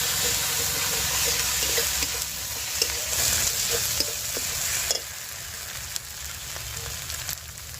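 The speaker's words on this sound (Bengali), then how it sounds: "1/2 চামচের অল্প লঙ্কা গুঁড়ো, 1/2 চামচের অল্প কাশ্মীরি লঙ্কা গুঁড়ো দিয়ে আমি আরো 2 মিনিট কষিয়ে নেব।" Chili powder and Kashmiri chili powder are sautéed in a pan for a cauliflower and silver carp fish curry, making a close, steady frying hiss with scattered stirring taps and a slight drop in level midway.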